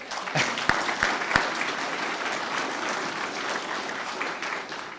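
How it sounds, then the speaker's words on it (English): Audience applause at a South Bruce all-candidates meeting, a steady wash of clapping lasting several seconds, with a few sharp near claps at the start and no talking over it. "Clap if you wish."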